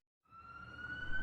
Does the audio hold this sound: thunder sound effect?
no